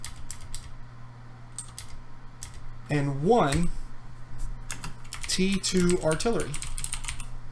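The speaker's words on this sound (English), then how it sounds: "my mechanical keyboard makes kind of loud." Clicky mechanical keyboard keystrokes, fairly loud and close, tapping in irregular bursts under a voice talking over a steady low hum.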